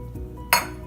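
Glass clinks sharply once as ingredients go into a blender for a raw food smoothie, a single bright near strike after a few soft kitchen shuffles.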